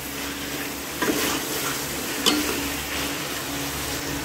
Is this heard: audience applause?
no